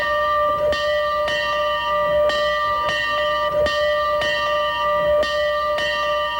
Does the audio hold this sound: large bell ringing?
yes